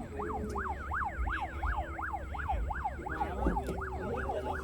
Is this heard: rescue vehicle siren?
yes